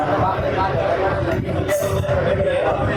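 Busy restaurant dining room at Mayur Garden Hotel in Dadar, a steady dense murmur of many overlapping voices with occasional clinks of dishes, continuous and moderately loud.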